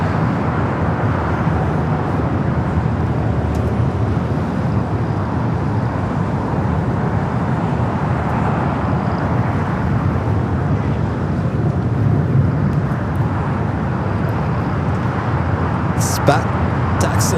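Airliner bound for Osaka taxiing at LAX toward a south side takeoff, a steady broad engine rumble and roar held for many seconds, loud and constant, with a couple of brief sharp clicks near the end.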